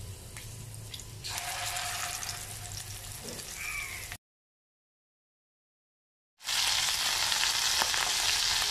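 Fish pieces sizzle and crackle steadily in hot oil with curry leaves in a pan, a bright continuous frying hiss that cuts out for a couple of seconds and then returns louder, with no one talking.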